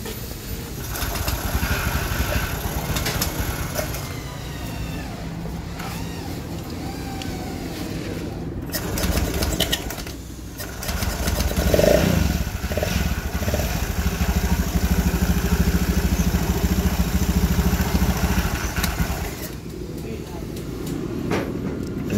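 A Honda Scoopy FI motorcycle engine with a humming crankshaft bearing runs in a workshop, a steady drone that rises and dips with clattering and voices talking over it throughout.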